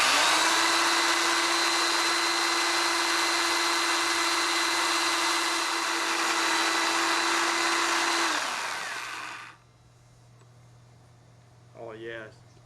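Steady whirring hum of a lathe spinning a cork fly rod handle while it is sanded, running loud and continuous for several seconds before stopping, followed by near silence and a brief voice.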